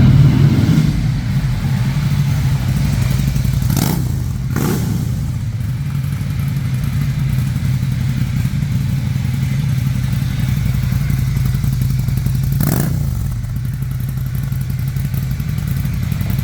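A Ducati Scrambler X 800 Desert Sled motorcycle engine runs steadily and loudly up close, with a few sharp mechanical clatters breaking through the constant rumble.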